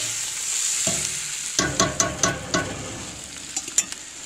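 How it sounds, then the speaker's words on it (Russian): Potatoes and meat are stirred in a kazan over a campfire: a quiet sizzle, then a run of distinct clanking, scraping strokes in a fairly steady rhythm, close and loud, tapering to a few final knocks. "Теперь мы это все перемешиваем еще разок."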